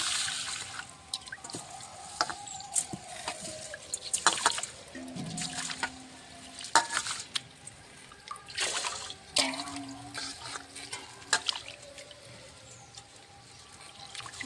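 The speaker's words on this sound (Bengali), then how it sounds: "এখন ডালটা ধুয়ে নেব" Lentils (dal) being rinsed in water in a kitchen: a series of soft, irregular splashes and trickles, each lasting a second or so, with quiet gaps between them.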